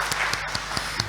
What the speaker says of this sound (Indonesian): kita beri tepuk tangan sekali lagi untuk adik-adik kita